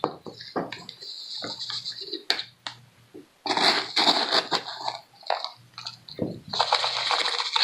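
Loose potting soil poured and scooped over rooted houseplant cuttings in pots, heard as close, repeated gritty rustling and crumbling bursts with brief pauses between pours.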